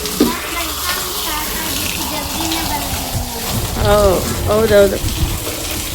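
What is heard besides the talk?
water washing the floor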